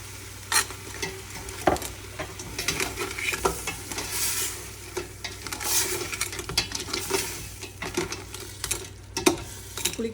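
Crab curry frying in a pan as tamarind water is poured in and stirred, with steady sizzling and repeated scraping stir strokes close up, no talking.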